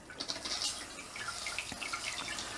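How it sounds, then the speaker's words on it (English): Water sprays steadily from a Pikets Slim bidet attachment, a continuous hissing splash at moderate loudness with no voices. "I heard water noise."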